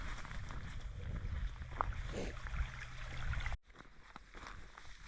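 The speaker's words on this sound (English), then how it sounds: "here's another little creek crossing to get across" Small creek crossing on the Crib Gap hiking trail, a faint, steady trickle and wash of flowing water with a few light splashes, cutting off abruptly near the end.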